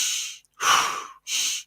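Rapid, forceful breathing exercise in the Wim Hof style: three strong breaths, one after another, each a loud rush of air separated by short silences, close up with no talking.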